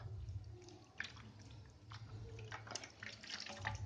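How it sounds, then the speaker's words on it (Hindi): Hot water running and splashing while a slot is scrubbed clean, with steady low-level flowing water and a few sharper drips and splashes, close by and with no talk. "इस तरह से पूरी सफाई कर लें गर्म पानी से।"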